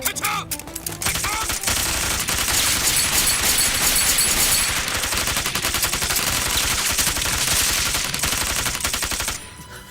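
Loud, dense gunfire from an action film set in the anti-Japanese war, with continuous volleys of rifle and machine-gun shots that run almost unbroken for about nine seconds before cutting off.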